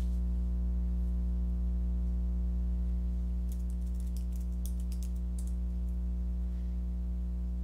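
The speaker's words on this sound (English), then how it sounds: "So they just need to type the answer." Brief burst of typing on a computer keyboard while entering an answer in a Quizlet writing exercise, a quick run of light key taps partly masked by a loud steady electrical hum.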